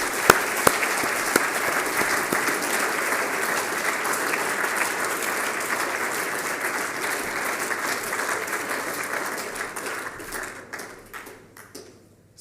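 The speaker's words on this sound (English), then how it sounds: "Can we just give Cassian a round of applause?" Pupils and staff at a school end-of-term assembly give Cassian a round of applause, a long burst of dense clapping filling the hall that thins out to scattered claps and fades near the end.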